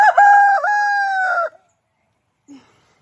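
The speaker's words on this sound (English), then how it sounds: "So these roosters" A rooster gives one loud, close, drawn-out crow, followed by a brief silence and a faint short cluck near the end.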